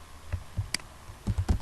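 A computer keyboard clacks under steady hands as Django code is typed in a quiet room, with about seven crisp keystrokes in an uneven rhythm, several of them bunched near the end.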